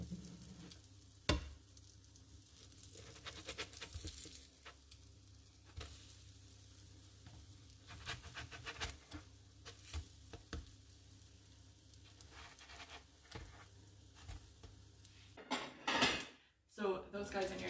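Protein oat pancakes sizzle steadily in a hot pan on the stove, a soft continuous frying hiss punctuated by occasional utensil clicks and a louder clatter near the end.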